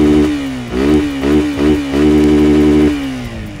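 A Suzuki Gixxer 150 BS6 motorcycle idles loud and close through its twin muffler exhaust, with several quick throttle blips rising and falling before it settles back to a steady idle.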